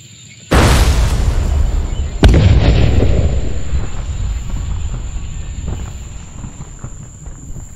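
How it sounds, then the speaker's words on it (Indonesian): A tank fires at a building: a heavy blast erupts, followed quickly by a second sharp explosion, with a long rumbling roar that slowly fades over several seconds. "Sebuah tank tiba dan menembak gedung tersebut."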